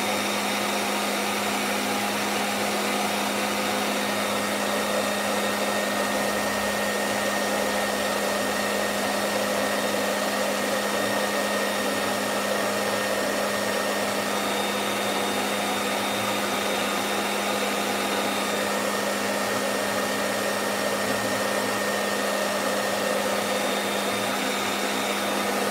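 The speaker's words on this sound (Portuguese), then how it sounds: "Agora vou dar uma secadinha de novo com o secador, só para garantir que tá bem seco o papel." A hair dryer blows steadily to dry paper during a colored-pencil doll painting session, a loud continuous whirring drone with a constant motor whine that never changes for the whole stretch, with no talking.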